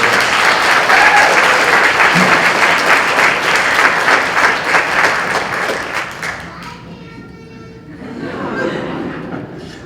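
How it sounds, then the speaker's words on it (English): Audience applause at a Wareham High School National Honor Society induction ceremony, loud sustained clapping for about six seconds that then thins out, with a brief swell of scattered claps near the end. "Let's have a round of applause for those."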